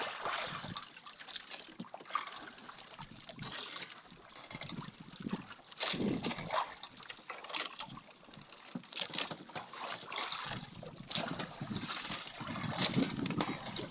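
A small fishing boat rocks on rough waves in strong wind: irregular splashing and water slapping against the hull with gusty rushing noise, fairly faint and uneven throughout, with no clear talk.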